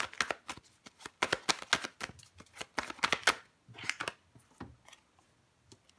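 A deck of tarot cards is shuffled by hand in quick, crisp riffling bursts that repeat in a steady rhythm, close and clear with no talking.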